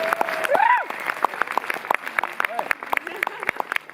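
Cinema audience applauding a jury prize, a dense patter of claps running under a speaking voice for the whole stretch.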